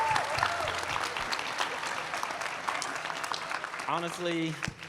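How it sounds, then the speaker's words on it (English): An audience applauds for someone whose work is being celebrated, with sustained, dense clapping throughout while voices talk and call out over it, ending as a nearby voice speaks. "Everybody get a hand clap."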